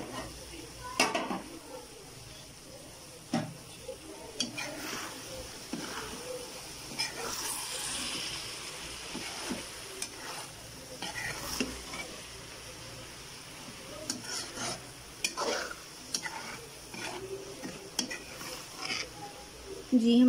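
A lid lifts off a pot of capsicum keema and a spoon stirs through it, with scattered metallic clinks and scrapes of cookware, fairly quiet and irregular, with a voice speaking at times.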